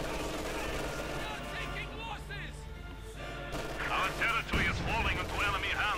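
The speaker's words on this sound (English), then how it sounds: "Heavy mortar firing leaning in there" A Soviet heavy mortar firing amid Company of Heroes 2 battle noise, dull booms and crashes mixed with gunfire beneath steady game music and a voice talking throughout.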